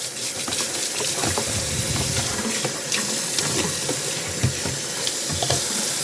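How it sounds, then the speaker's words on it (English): A fine mesh strainer being washed under a running tap into a sink, steady splashing water with scattered clinks and knocks of the mesh, close and continuous with no talking. "So I'm just going to take a minute and go ahead and wash the strainer up."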